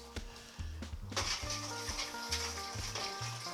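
A spoon stirs browning into water for beef ribs, giving quick, close scraping strokes in an uneven rhythm against a soft sizzling hiss.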